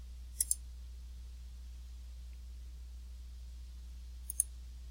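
Two quick pairs of computer mouse clicks, one near the start and one near the end, sharp and close over a quiet low hum while selecting cells in a spreadsheet.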